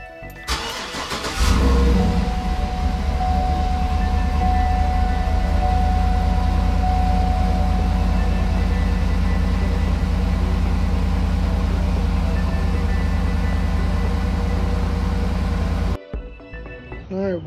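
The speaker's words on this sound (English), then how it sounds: "Let's go ahead and give y'all a cold start." A 2012 Mazda 3 starting from cold: a short crank catches, and the engine settles into a loud steady idle that runs about fourteen seconds before cutting off abruptly.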